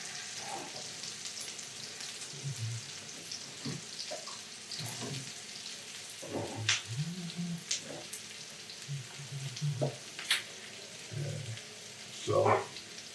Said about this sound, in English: So now we've got a nice hot pan here. I'm gonna put the onions in first.